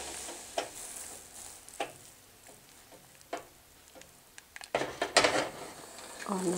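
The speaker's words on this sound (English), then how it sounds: "See, our tea is boiling." Tea simmers and bubbles in a pot with a soft background hiss, punctuated by scattered clinks and taps of a utensil against the pot.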